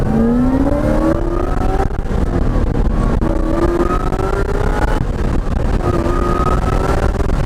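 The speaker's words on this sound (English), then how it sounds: "I wanted you to hear the supercharger whine again." Porsche 944 fitted with a supercharged LS1 V8 accelerating hard, a loud continuous engine roar with a rising supercharger whine climbing in pitch through several gear pulls, close and without speech.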